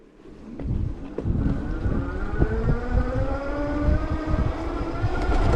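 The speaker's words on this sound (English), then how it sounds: "I'm going to start off with the throttle here to see how this bike does on its own power" A Blix Sol Eclipse electric cruiser bike pulls away on throttle alone, its motor whine rising steadily in pitch as it gathers speed toward 20 mph, close and continuous, with wind and road rumble beneath.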